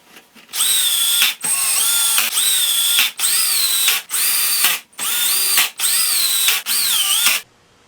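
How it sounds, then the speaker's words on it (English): Power drill whines loudly in eight short bursts with brief pauses between, the pitch rising and dipping as each hole is drilled into wood. "I'm going to drill some holes to attach these hooks"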